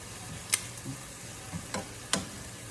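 Wild garlic flowers and leaves with bok choy being stir-fried in oil and oyster sauce in a pan, giving a soft sizzle with a few sharp scrapes and clicks of the spatula at irregular moments.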